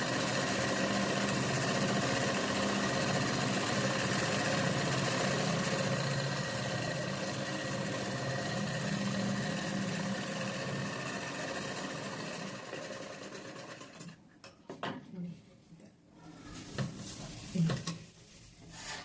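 A sewing machine top-stitches along the edge of a chudi, running in a steady loud whirring hum for most of the stretch, then slowing into short stop-start bursts near the end.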